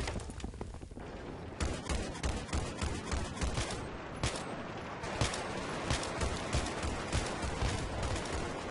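Gunfire in the Battlefield 3 game during a Rush match: repeated rapid shot bursts crackle steadily over a noisy battlefield background, fairly faint overall.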